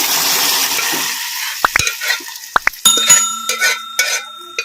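Gongura dal tipped into a pan of fried onion tempering, with a hissing sizzle and several sharp clacks of a spoon against the pan, then steady stirring.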